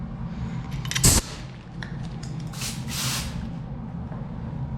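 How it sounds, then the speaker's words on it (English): Short bursts of spray adhesive hit a vehicle headliner during a restoration, a sharp close hiss near the start and a longer, softer spray hiss a couple of seconds later against low background rumble. "I guess I'll just try spraying this one side first."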